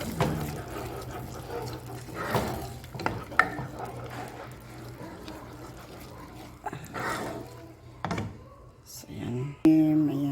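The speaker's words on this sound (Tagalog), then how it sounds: "nilagay ko na yung cream. Halo natin para maging malasa talaga siya." Cream is stirred into sautéed tomato and onion in a pan, with intermittent scraping and a soft sizzle while a person talks over it and clatters utensils.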